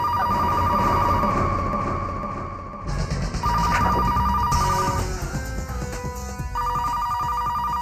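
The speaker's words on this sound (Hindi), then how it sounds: "फोन बज रहा है" A telephone bell rings in repeated bursts, loud and close, with a busy background hum and no talking.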